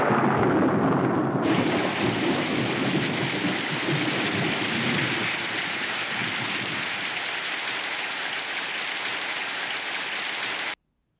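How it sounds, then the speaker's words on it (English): Steady heavy rain hisses continuously, with a low rumble of thunder rolling beneath it, loud and close, before cutting off abruptly at the end. "Could be raining."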